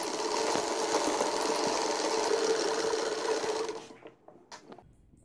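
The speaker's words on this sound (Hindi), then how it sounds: "अब पजामे का ट्राउज़र का दूसरा हिस्सा मैं सीने लगी हूँ" A sewing machine runs steadily for about four seconds, stitching the second leg of a six-month baby's pajama trouser from leftover fabric, then stops, leaving a few soft handling clicks and rustles.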